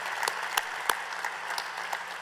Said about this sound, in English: I want to give you a round of applause for all the work that you've done